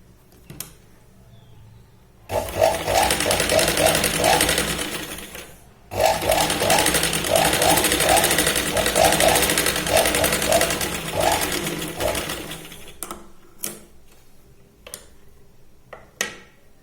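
A sewing machine stitches saree fabric for a katori blouse in two long, close, rapid rattling runs separated by a short pause, followed by a few scattered clicks and knocks.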